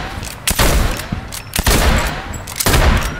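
Gunshots in Fortnite, three loud sharp bursts spaced about a second apart over continuous game background noise.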